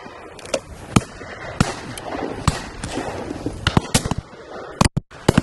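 Shotguns fire at partridge on a shooting estate, a scattered run of sharp cracks and bangs from several guns at varying distances, some near and loud, others faint, spread over five seconds.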